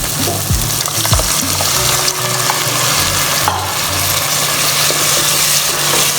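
Yogurt cooks in hot oil with turmeric for Kangra-style chane ka madra, producing a loud, continuous close-up sizzle and bubbling with occasional stirring clinks throughout.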